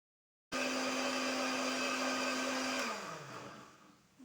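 An electric blender grinds a spice paste of curly red chili, asam sunti, shrimp paste, turmeric powder and coriander powder. It kicks in abruptly with a loud, steady whir, then spins down after about three seconds.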